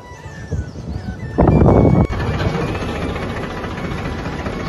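A tractor engine rumbles low and steady during a ride, with a sudden louder noisy burst partway through before the steady drone resumes.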